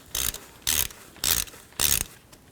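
A socket wrench ratchets in four short, loud clicking bursts at a steady rhythm while loosening the drive belt tensioner on a 2004-08 Nissan Maxima, close up with no talking.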